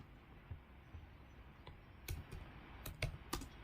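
Quick, irregular clicks of a computer keyboard as a command is typed, a few scattered keystrokes followed by a faster cluster, close but fairly quiet over a soft background hiss.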